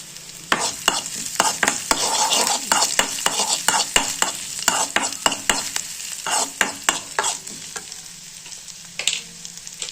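Cumin, garlic and ginger sizzle in hot oil, with a steady crackling hiss broken by repeated sharp stirring scrapes that thin out toward the end.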